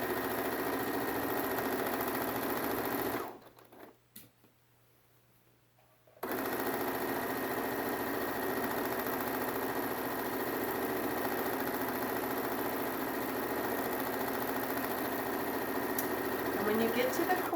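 A sewing machine runs steadily as it stitches a straight seam along a pillowcase, a continuous mechanical hum that cuts out briefly for a few seconds before resuming at an even, close-up level.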